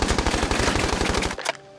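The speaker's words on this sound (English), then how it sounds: "Colt monitor machine rifle." Rapid machine-gun fire from a Colt Monitor machine rifle in a movie, a steady burst of loud, evenly spaced shots lasting over a second, then cutting off into a short echoing tail.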